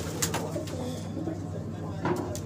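Hyderabadi racing pigeons in a loft on a hot summer day give low, repeated murmuring coos that run steadily alongside a voice in the background.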